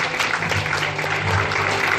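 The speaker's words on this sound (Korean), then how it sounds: "여러분 모두 박수를 담아 함께 해주겠습니다." Steady applause from the audience at a Harvard Club of Korea alumni event, a dense, even wash of clapping lasting about two seconds.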